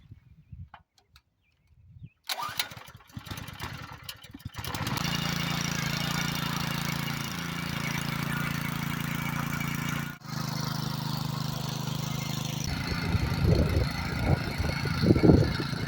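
A borrowed garden tiller's engine starts after a brief quiet and keeps running steadily at close range, its drone continuous with a short dip midway and rougher, louder clatter toward the end.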